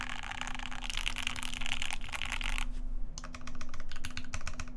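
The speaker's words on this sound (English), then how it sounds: "I think I like the alpha sound better than the mod sound on this keyboard" Mechanical keyboard keys clatter close by, a fast run of typing that pauses briefly and resumes as crisp, separate clicks.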